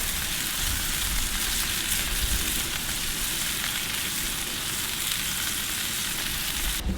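Smash burgers with onions sizzle loudly on the griddle plate of a Monument Eminence 605 grill in a backyard, a dense, even crackle of fat that holds steady throughout without any talking.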